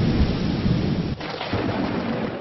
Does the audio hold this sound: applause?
no